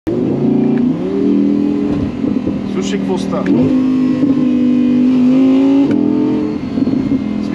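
A 2021 Audi R8 V10 Spyder RWD in Dynamic mode revs its naturally aspirated V10 up and down in repeated swells, loud and close, with someone talking in Bulgarian at the start.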